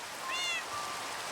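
A single short Minecraft cat meow, clear and close, over a steady wash of rain-like background noise.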